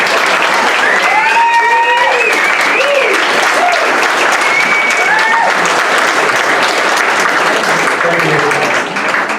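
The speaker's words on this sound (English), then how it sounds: "Give a round of applause, guys." A crowd at a sporting club's old boys event gives a loud, close round of applause that stays dense and continuous for about nine seconds, with voices calling and cheering through the clapping before it begins to thin at the end.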